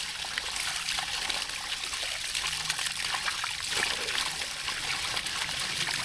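Water trickles and splashes steadily nearby, a continuous bright hissing flow of small running water with no break.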